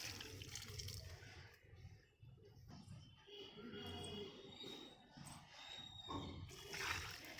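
Rice-washing water poured onto potted terrace garden plants, splashing and trickling steadily into the soil with some background noise and possible faint voices.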